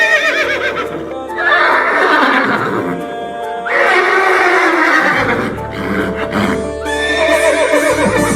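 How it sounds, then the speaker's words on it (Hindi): Loud horse neighs and whinnies, two long calls with a third starting, over a steady low rumble and faint hoof clip-clop, part of a school annual function stage performance. "जब राम जी ने अश्वमेघ यज्ञ का घोड़ा छोड़ा"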